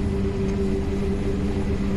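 Aircraft engine drone in Halo: Reach, a steady humming tone with a constant pitch held throughout, loud and close, with no voices over it.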